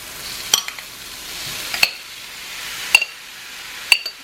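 Shrimp sizzle steadily in a hot pan while a utensil stirs them, with about four sharp metallic clinks spaced a second or so apart over the frying hiss.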